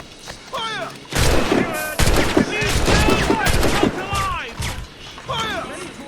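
Soldiers in Assassin's Creed Rogue fire musket volleys, a rapid cluster of sharp, loud cracks and thumps that rattles on for several seconds, while voices shout over the shooting.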